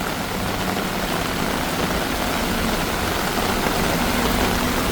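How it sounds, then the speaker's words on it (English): Heavy rain pours down in Bangkok during the rainy season, a dense, steady roar of water on surfaces that fills the whole clip without pause. "this is the heaviest rain this year that I've seen"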